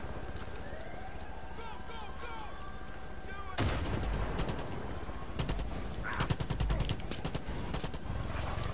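AKM assault rifle fire in Far Cry 5 during an outpost battle: sharp, rapid gunshots and bursts break out after a quieter stretch and run loud and dense to the end, with game ambience and voices underneath.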